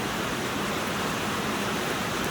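Steady rain falling outdoors by a home workshop, a dense even hiss of broadband patter, close and constant with no voices.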